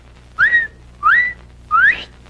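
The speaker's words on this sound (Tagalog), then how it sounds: "Pag pumito ka ng ganyan, yan, nangangahulugan nandiyan na." Three rising two-note whistles from a person, used as a signal, each about a quarter second long and evenly spaced, loud and close against a low steady background hum.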